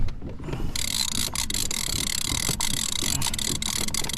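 Fishing rod reel spun repeatedly to tighten line tension for salmon fishing from a kayak, giving a steady ratcheting click over outdoor wind and water noise, with sharp clicks recurring throughout.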